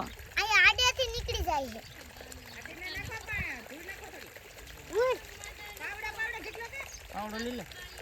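Water diverted through a farm field channel trickles and pours softly in the background, mostly buried under steady conversation from several people, including a higher child-like voice.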